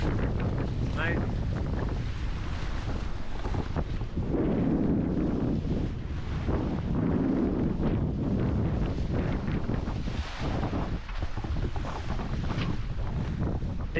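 A sailboat moves under way near mountains, with steady wind buffeting and rushing water around the hull filling the whole stretch without a break.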